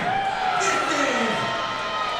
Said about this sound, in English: Big crowd here in support for Brady Currt.